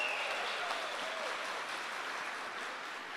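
A church camp congregation claps together, dense sustained applause filling the space for the whole stretch, loud and even with no individual voices standing out.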